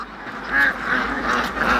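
Free-range farm ducks quack in a lively overlapping flock, several nasal calls close by in a steady, uneven rhythm.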